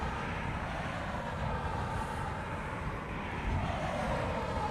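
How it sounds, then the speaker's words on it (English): An Airbus A400 military transport aircraft moving at Honolulu airport gives a steady, broad engine roar that holds at a fairly loud, distant level from start to end, with no voices over it. "I think that A400 is moving now"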